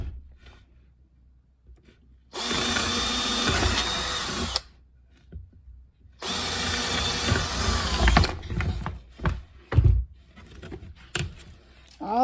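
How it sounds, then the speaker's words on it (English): A power drill bores holes through a laundry hamper and into wood, with two sustained loud whirring runs of about two seconds each, then scattered clicks and handling knocks. "Drilling one through the hamper, the laundry basket, and one on the outside of the wood."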